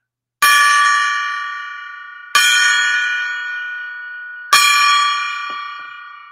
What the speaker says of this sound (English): Time for us to ring the gong for 300 thumbs up.